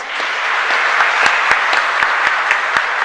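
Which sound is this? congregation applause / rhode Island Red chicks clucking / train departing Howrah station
congregation applause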